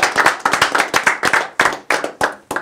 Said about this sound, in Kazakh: Шапалақ ұрмайсыңдар ма?